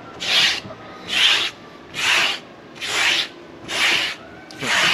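A rubber belt sander cleaner block is rubbed over white grip tape on a surf skateboard, six evenly spaced gritty scrubbing strokes, about one per second, close and moderately loud, with no voices.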